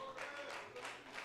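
A church congregation applauding, with a warm, steady wash of clapping that swells and settles over the 1.3 seconds, fairly soft and heard through a room.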